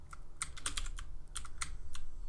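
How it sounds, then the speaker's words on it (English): A loud computer keyboard being typed on during a BMX game session, a quick cluster of sharp, close key clacks in an irregular rhythm. "my keyboard is loud"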